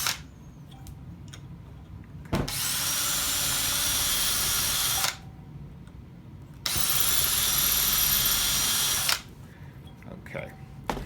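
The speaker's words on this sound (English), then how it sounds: "drill into the dowel." A pilot drill bit bores into a wooden dowel clamped in a vise, with two steady, loud whirring bursts of a few seconds each separated by a quiet gap.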